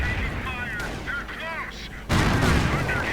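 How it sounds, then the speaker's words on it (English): Gunfire and mortar fire rumble through a World War II real-time strategy battle with German panzergrenadiers, a Pak 38 anti-tank gun and Volkswagen vehicles, a dense, continuous roar of distant shots and blasts that swells louder near the end. "Mortar rounds flying, but not really managing much"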